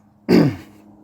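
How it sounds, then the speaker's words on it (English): A single short, harsh cough bursts out close by, then trails off into quiet room tone. "Sorry about my coughing"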